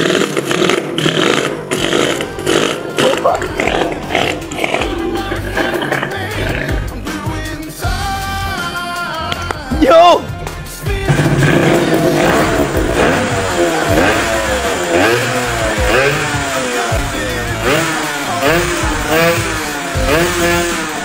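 A 30-year-old Honda NSR 250cc two-stroke engine on a rebuilt motorcycle runs loud and close, buzzing steadily and revving up and down continuously for about twenty seconds.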